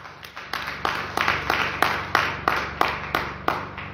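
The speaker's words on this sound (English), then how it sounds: "Clap hands for Jesus" A church congregation claps hands in unison, a steady beat of sharp, loud claps roughly three per second continuing without pause.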